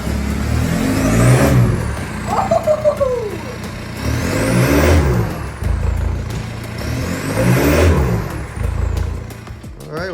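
A VW Mk4 Jetta TDI diesel engine with a freshly swapped turbo and new exhaust revs up hard three times, each rise swelling to a loud turbo whine and falling back to idle, with a brief exclamation heard between pulls.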